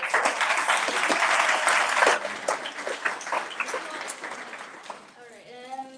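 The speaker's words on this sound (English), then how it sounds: "Once again, round of applause" An audience at a literary magazine issue launch applauds loudly, the clapping dense at first and then thinning and tapering off, with voices speaking over the last part.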